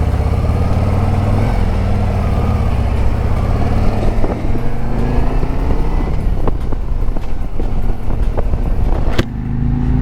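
A 2024 Harley-Davidson Road Glide motorcycle rumbles steadily and close while riding, its low engine drone continuous throughout with a few brief shifts in pitch and no talking.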